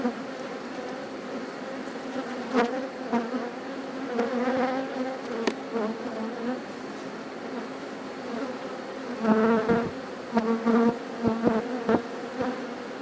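Honey bees at a beehive hum steadily and up close during an inspection of a strong colony, with buzzing that swells and fades and occasional brief knocks.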